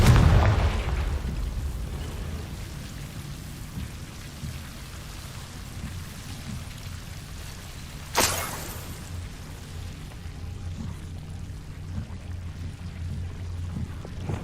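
A Confringo blasting spell explodes in a video game. A loud booming burst opens, and a sharp second blast comes about midway, both over a constant rain-like hiss.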